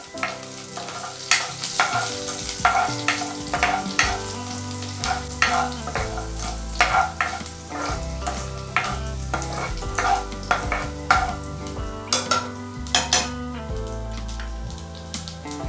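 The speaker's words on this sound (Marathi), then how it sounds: "आता हा लसूण आपल्याला छान असं फ्राय करायचा आहे" Seven to eight finely chopped garlic cloves fry in a pan for a tomato and sev curry, with steady sizzling broken by repeated scraping stirs of a spoon, close and fairly loud with no talk.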